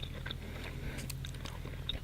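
Butter-cooked sunchoke is bitten and chewed close up, soft, moist mastication sounds over a low steady background hum.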